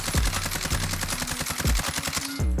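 AMAX rifle in Warzone fires a rapid, steady burst of loud, close automatic shots with recoil held under control, each crack punching through in an even rhythm with no talk.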